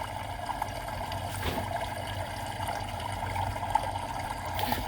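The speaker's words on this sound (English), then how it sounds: "that noise in the background, it's called Bamboo Water Fountain Black Screen Water Sounds White Noise for Sleeping 10 Hours." Water from a bamboo fountain trickles and burbles in a steady, moderately quiet stream, a continuous relaxing flow with faint splashes and no voices.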